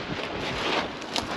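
Gusty wind buffets the microphone in a steady rushing roar, with a brief louder thump near the end.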